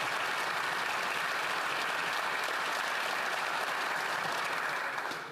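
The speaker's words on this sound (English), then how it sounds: "let's give them a round of applause" Applause fills the House of Commons chamber, a dense and loud sustained clapping from many members that holds evenly before tapering off at the end.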